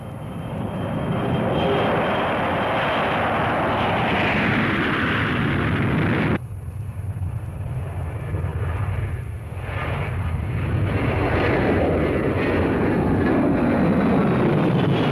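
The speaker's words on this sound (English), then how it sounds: "and the aircraft launched" Strategic Air Command bomber aircraft launching, a loud continuous jet roar that swells, cuts sharply to a lower rumble, then builds again as the engines power up.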